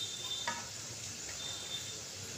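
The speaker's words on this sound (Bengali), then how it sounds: "ডুবো তেলে কীভাবে আমি সিঙাড়াগুলো ভাজছি তোমরা দেখো।" Samosas deep-fry fully submerged in hot oil, giving a steady, close, even sizzling hiss with a faint crackle early on and no talking.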